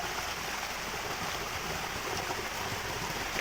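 Water from a cold waterfall pours in a constant, even hiss, a continuous broadband rush with no pauses and no voices.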